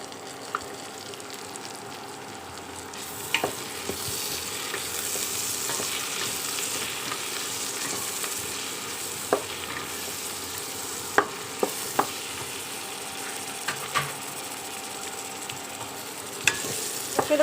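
Vegetables with tomato and coriander leaves fry steadily in a pan for vegetable pulao, with a continuous sizzle broken by scattered clicks and scrapes as they are stirred.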